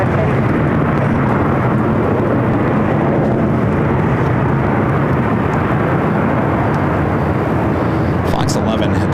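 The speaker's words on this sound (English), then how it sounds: "we'll get the JetBlue A321 coming up from Fort Lauderdale, Florida" A JetBlue Airbus A321 from Fort Lauderdale, Florida arrives at LAX with a loud, continuous jet roar that stays close and unbroken from start to finish.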